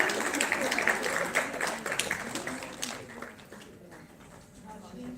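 Crowd at a health conclave in Chandigarh gives a round of clapping that is fairly full at first, then fades to scattered claps over background voices.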